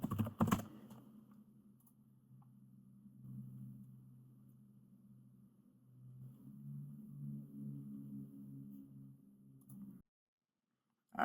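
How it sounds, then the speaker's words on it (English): Computer keyboard typing, with quiet, soft, rapid key clicks over a low rumble. A sharp burst comes at the start and the sound stops abruptly near the end. "And then just type in whatever you want for everything else."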